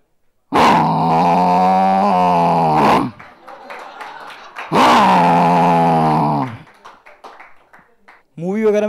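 A voice imitates a buffalo with two long, loud, deep bellowing moos, separated by a pause with faint background noise, and a third beginning at the end.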